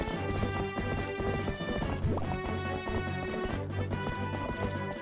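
In Zelda: Twilight Princess, a horse answers a call and gallops in, its rhythmic clip-clop hoofbeats loud and steady over game music, with a brief whinny partway through.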